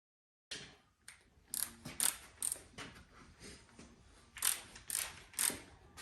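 A wrench works engine main bearing cap bolts, giving a quiet, uneven series of metallic clicks and ratcheting strokes close by, with irregular bursts and no talk.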